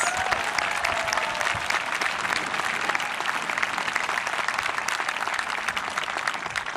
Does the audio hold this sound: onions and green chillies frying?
no